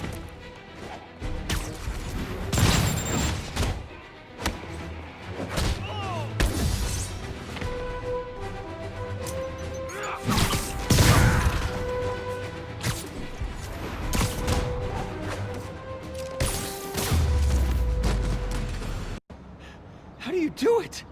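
Rocket launcher fire and explosions from Marvel's Spider-Man Remastered on PS5, a run of loud crashing blasts and impacts with game effects, under frequent character speech and gasps.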